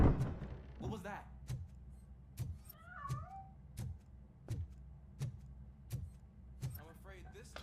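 Cat meowing in the video game RoboCop: Rogue City, a few short mewing calls in the middle and near the end, set over a steady rhythmic thumping of footsteps and background game noise.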